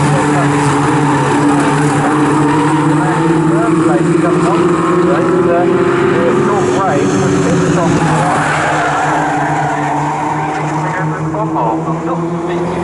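Locost race cars at Snetterton roar past close together under a bridge, engine notes rising and falling as they go by, while a commentator talks over them.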